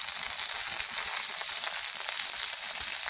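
Steady, close sizzling of garlic, tomato, green chili and onion frying in a pan, a continuous bright crackle with faint stirring and no talk.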